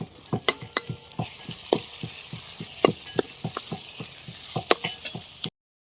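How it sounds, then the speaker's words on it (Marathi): Spices tempered in oil in a heated kadhai with onion frying, a steady sizzle broken by sharp, regular clacks of a spoon stirring against the pan, close and with no voices. "फोडणी देऊन घेते आता."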